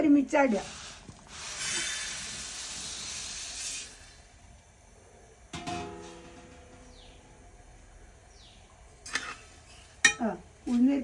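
Rice and black pepper dry-roasting in a heated uruli pan for chutney powder, a rustling, steamy hiss of stirring lasting a few seconds, with people talking before and after.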